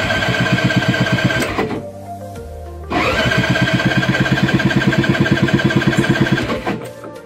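An auto rickshaw engine cranked with its starter at night while stalled, chugging loudly and rhythmically up close, cutting out briefly near two seconds and then turning over again in a steady pulsing run.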